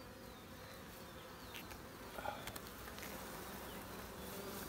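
Honey bees buzzing inside an opened hive, a faint continuous droning hum with occasional louder passes of single bees close by.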